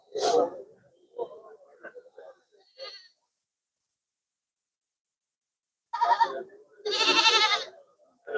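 Barbari goats bleat nearby at a livestock fair, a few scattered short calls followed by two loud, drawn-out bleats after a brief silence.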